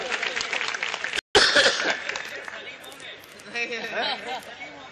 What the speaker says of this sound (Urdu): ایک بار زوردار تالیاں آپ بجا سکتے ہیں اپنے لیے